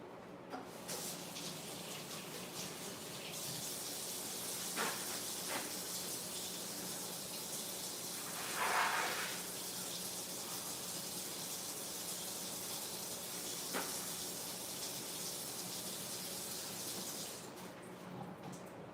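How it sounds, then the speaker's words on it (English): A kitchen tap runs steadily while hands are rinsed under it, giving a constant close hiss of water with a few brief splashes and clunks and no talk. "I'm gonna go rinse my hands right quick."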